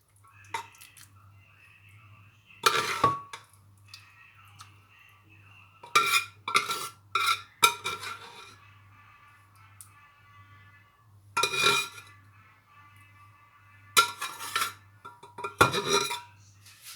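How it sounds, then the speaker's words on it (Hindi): Lobia curry is transferred into a serving dish with spoon scrapes and clinks against cookware, coming in several sharp bursts separated by quiet pauses, with a low steady hum beneath. "इसको बर्तन में निकाल लेते हैं।"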